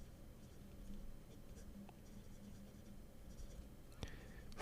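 A Wing Sung fountain pen with a springy, two-toned steel fine nib in number 8 size scratches softly across paper in close, faint strokes. A brief sharper tap comes near the end.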